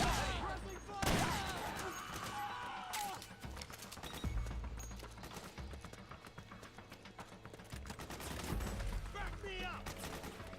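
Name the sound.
gunfire in Metal Gear Solid video game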